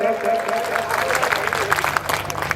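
Applause rises from the crowd at a 2023 mushaira poetry recital in Kishanganj, a rough, uneven burst of clapping mixed with voices and crowd noise.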